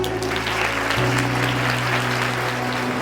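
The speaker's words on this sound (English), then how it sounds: "Kindly welcome them with a huge round of applause." A large audience at a World Earth Day celebration claps steadily to welcome guests, with dense, loud applause filling the whole stretch over a faint sustained hum.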